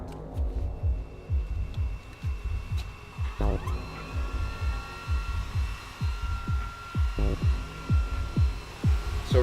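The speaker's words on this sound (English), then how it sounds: "So we're printing 2 magazines today, Mike." A 3D printer running a print of gun magazines gives off rhythmic pulsing motor hums and whirs that repeat in a steady throbbing pattern, close and fairly loud, with no talking.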